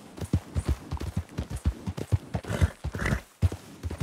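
Horse hooves galloping in Red Dead Redemption 2, a fast rhythmic drumming of thudding hoofbeats, close and fairly loud, continuing throughout.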